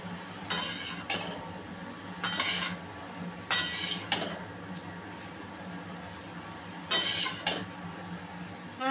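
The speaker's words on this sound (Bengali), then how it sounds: "এবার ভালো করে এটা নাড়াচাড়া করে নেব।" Metal utensil clinks and scrapes against a pot while ash gourd with turmeric and salt is stirred, coming in short separate bursts of clatter over a quiet background.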